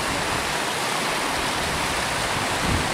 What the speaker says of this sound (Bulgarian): В момента преминавам едно дървено моче на една рекичка, шумна, буйна, с едно малко поточие.